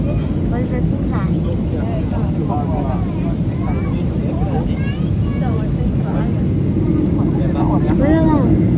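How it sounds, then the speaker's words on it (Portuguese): Inside an airplane on its landing approach in Bahia, Brazil, a steady, loud low cabin rumble runs throughout while people, including a child, talk over it. "o avião já chegou na Bahia, agora vai pousar"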